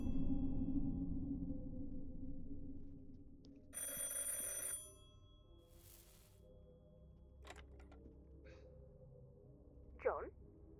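A telephone in The Incident at Galley House video game rings in one brief, bright burst, set against a low, steady ambient hum with faint voices and small clicks.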